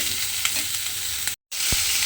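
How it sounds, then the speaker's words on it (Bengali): Steady loud sizzling of potatoes and pointed gourd frying in hot oil, with a few spoon scrapes and a brief dropout near the end. "আমি এখানে আলু পটল একসঙ্গে দিয়ে ভেজে নিচ্ছি"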